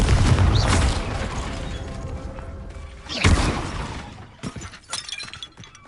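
Explosive spell blasts in a Harry Potter video game: two loud shattering booms about three seconds apart, each followed by crashing debris, then scattered smaller cracks fading out.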